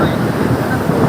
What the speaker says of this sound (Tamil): அலை பயங்கரமா இருக்குது